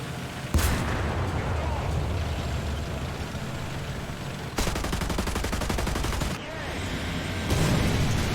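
A fast tank firing its main gun in War Thunder: a heavy blast stands out over the steady roar of a tank engine, with a rapid machine-gun burst later and continuous loud vehicle rumble throughout.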